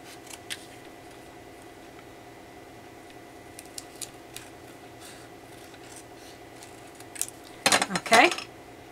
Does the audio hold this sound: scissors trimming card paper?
yes